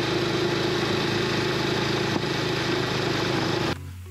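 A motorcycle engine runs steadily at close range after a short ride, a loud, even droning rumble with a constant pulsing beat that cuts off abruptly near the end, leaving a quieter low hum.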